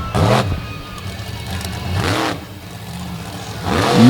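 Monster truck Toxic, driven out of Frederick, Maryland, revving its engine on beach sand at a monster truck show; loud, near throttle bursts rise and fall in three surges with whirring between.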